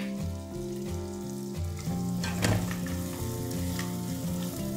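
Fenugreek seeds fry in a pan for a village-style tomato curry, a loud continuous sizzle with scraping stirs partway through, no voices.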